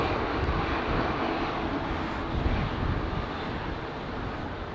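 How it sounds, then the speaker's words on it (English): Trent XWB engines on an Airbus A350 spool up for a full-power takeoff at Heathrow, a loud, dense, sustained roar with broadband rumble, steady and close, with no talk. "Listen to these XWBs spool up, man."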